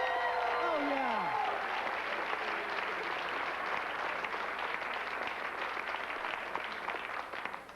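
Sustained audience applause and cheering for comedian Carrie Snow at a comedy show, a dense steady wash of clapping with a whistle at the start, fading slightly toward the end.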